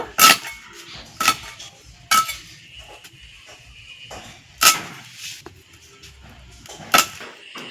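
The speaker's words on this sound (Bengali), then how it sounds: "এখন আমি এই মাছের পাখনাগুলো কেটে নেব" A knife cuts the fins off a fresh rohu fish dusted with ash for grip, giving several sharp, isolated clicks and taps of blade on board at irregular intervals, with faint scraping and quiet handling between them.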